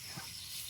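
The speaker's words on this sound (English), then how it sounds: "Give her a spray." A handheld spray bottle mists water onto a rock being checked for calcite, giving a steady, soft hiss that runs through the whole short moment at close range.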